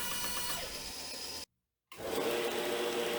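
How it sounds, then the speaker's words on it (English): A power saw cuts curves into pallet wood, a continuous buzzing, rattling whine close by. It cuts off for half a second, then resumes slightly louder. "Use a bandsaw, a jigsaw, or a hand saw to cut out the curves on each end"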